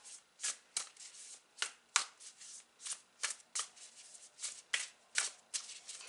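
A tarot reader's oracle deck being shuffled by hand: a steady series of crisp riffling card bursts, about a dozen distinct flicks in quick rhythm, close and clear with no talking.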